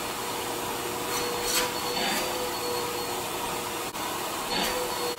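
A vacuum cleaner runs steadily close by, a constant whirring drone with slight rises and dips as it moves.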